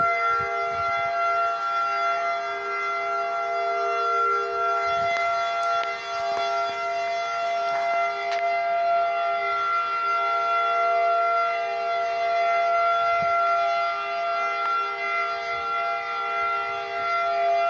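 Tornado warning sirens wail steadily through a storm in Westmoreland County, Pennsylvania, one sustained droning tone that carries loud and unbroken, with faint rustling underneath.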